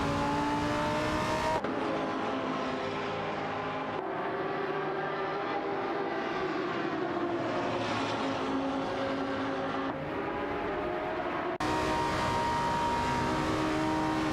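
A Panoz Abruzzi GT2 and a Lamborghini Gallardo GT3 dice in a racing video game, giving continuous loud engine whine with rising and falling revs and several abrupt cuts as the sound changes.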